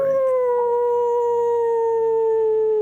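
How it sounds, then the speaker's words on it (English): Distant wolves howl in a long, steady, sustained tone that slides slowly downward, with faint overtones above it, heard alone with no talk over it. "you hear in the distance some howling of like wolves."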